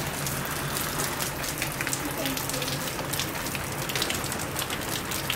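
Steady rain patters and drums on a surface, a dense, constant wash of drops with no voices.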